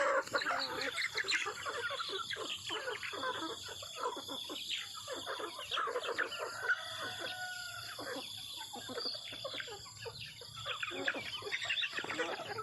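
Flock of chickens clucking and squabbling at morning feeding time, dense continuous cackling with a rooster crow mixed in, moderately near over steady background hiss.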